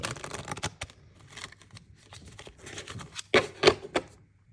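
A deck of animal oracle cards is shuffled by hand overhand, giving a loose run of papery flicks and soft slaps with a few sharper riffles near the end, close and fairly quiet.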